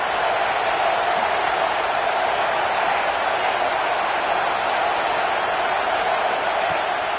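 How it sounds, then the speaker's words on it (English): A steady, dense roar from a packed stadium crowd in the College Football 26 video game, tense before a third-down play in the red zone, holding an even, unbroken wash of noise throughout. "3rd down play in the red zone, and this crowd is at fever pitch"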